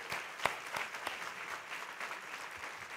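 Audience applause at the closing and awards ceremony of the Mar del Plata Film Festival, a steady sustained clapping from a large crowd with a few sharper individual claps near the start.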